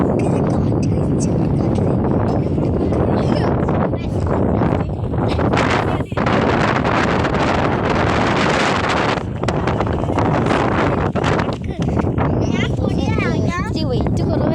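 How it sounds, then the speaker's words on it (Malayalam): Strong wind roars and buffets the microphone nonstop at the hilltop Urava Para temple, loud and gusty with brief dips, while people speak under the rumble. "അതിന് മാത്രം കാറ്റാണ്."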